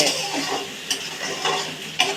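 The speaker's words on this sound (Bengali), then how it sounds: "এখানে মশলা কষু পেঁয়াজ ভাজা হোক" Steady sizzling of spices and onions frying in a pan, with a few sharp clinks of a utensil stirring against the metal.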